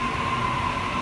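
Steady rumbling noise with a constant electrical whine as a Sydney Trains Waratah electric train rolls slowly into a platform, loud and close.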